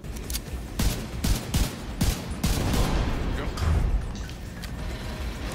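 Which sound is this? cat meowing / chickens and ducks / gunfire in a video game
gunfire in a video game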